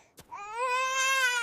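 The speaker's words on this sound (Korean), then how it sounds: "애기 우는 소리 아니야?" Newborn infant crying in a mountain cave, a single rising wail that starts after a short click and holds as a loud, sustained, harmonic-rich cry.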